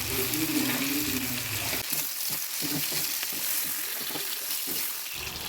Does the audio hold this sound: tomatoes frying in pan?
yes